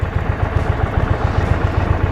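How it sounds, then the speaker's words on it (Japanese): The engine of a 2025 Indian Roadmaster Elite motorcycle runs close by at a steady idle, with even low thumping pulses and light mechanical clatter. "フロント周りエンジンかけるとこんな感じ"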